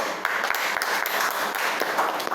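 Steady applause from a crowd, a dense wash of clapping with a few sharper claps standing out near the front.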